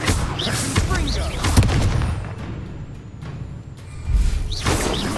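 Hogwarts Legacy blast spell explosions hit in quick bursts at close range, loud, with whooshing sweeps and gunfire-like cracks, a lull in the middle, and voices speaking between the blasts.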